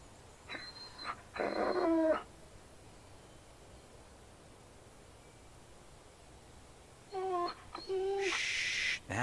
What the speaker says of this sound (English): Shh, that's a good dog.